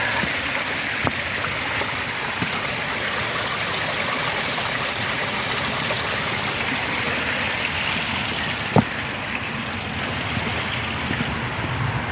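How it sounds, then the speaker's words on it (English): Waterfalls in Beechwood Park rush in a steady, dense roar that fills the whole stretch, loud and unbroken, with a couple of faint knocks. "Some beautiful waterfalls this morning."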